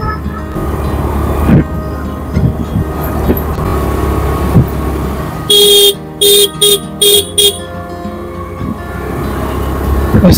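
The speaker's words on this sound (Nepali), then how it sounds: "हर्न चाहिँ बजाउनै पर्छ यता" A vehicle horn on a winding mountain road sounds in a quick series of short, loud toots, preceded and followed by a steady engine rumble of the moving vehicle.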